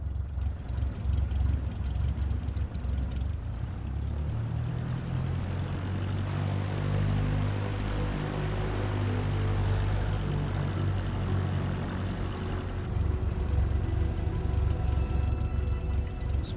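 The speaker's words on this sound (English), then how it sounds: "let me taxi to the runway" A small propeller airplane taxiing toward the runway in Microsoft Flight Simulator 2024, its engine droning steadily at low power with a harmonic hum that rises a little midway, continuous and close, with no talking.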